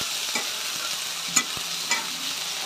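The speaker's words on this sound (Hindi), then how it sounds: "मैं प्याज तो फ्राई कर दे रही हूँ।" Onions frying in a pan for a cauliflower curry, a steady close hiss of oil with a few light stirring clicks and scrapes scattered through, no voices.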